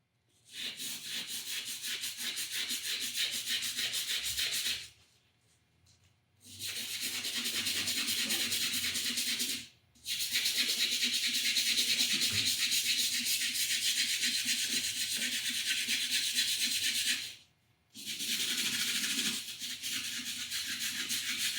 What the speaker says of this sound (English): we'll take our little bristle brush again and we'll give her a scrape